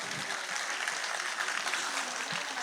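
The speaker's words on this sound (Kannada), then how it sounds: "ಜೋರಾಗಿ ಚಪ್ಪಾಳೆ ತಟ್ಟಬೇಕು" A crowd at the Kalarnava 2025 dance academy programme in Puttur applauds as asked, a steady, fairly faint wash of clapping with a few louder claps standing out, no talk.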